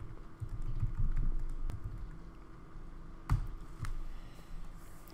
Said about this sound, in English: Then when you type the message,